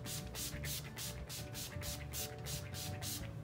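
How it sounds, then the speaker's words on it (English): Urban Decay All Nighter makeup setting spray misted in a rapid series of short, soft hissing pumps, about eight to ten quick bursts in an even rhythm, faint and close with no talking. "use a setting spray. This is Urban Decay All Nighter."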